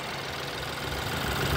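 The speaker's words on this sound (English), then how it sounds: "Engine is running quite happily at idle here after a cold start." A 2016 BMW 320i xDrive's 2-liter four-cylinder TwinPower turbo engine idles steadily after a cold start, a continuous even hum with low rumble, close and unbroken.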